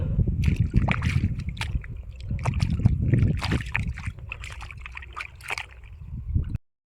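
Muddy sandals are washed in water: close, irregular sloshing and splashing with scrubbing bursts and dripping, and no voices.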